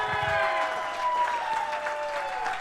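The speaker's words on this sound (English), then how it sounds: "Give these folks a round of applause" A live audience claps for veterans standing up at a Veterans Day club show, a moderate burst of applause with lingering instrumental tones and some crowd noise mixed in.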